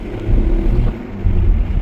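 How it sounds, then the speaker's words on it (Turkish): A diesel 1.6 TDI engine in a 2013 Volkswagen Golf hums low and close, with the revs swelling briefly and settling again in a short run of throttle, with no voices. "Evet bakın dizel sesi."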